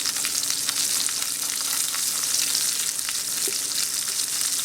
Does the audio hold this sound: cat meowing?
no